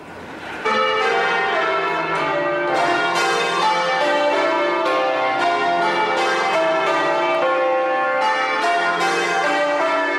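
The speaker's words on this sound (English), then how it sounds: "Today, the bells are rung every week by a group of bell ringers who work in the city." The Bow bells of a London church peal loudly and continuously in a rich, overlapping sequence of strikes, ringing close and full for the whole stretch.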